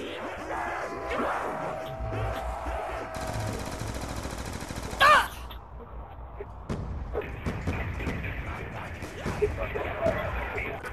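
Gunfire from a double pistol in the Die Rise zombies video game, a busy stretch of rapid shots and bursts with one loud sharp crack midway, mixed with game effects and a voice talking throughout.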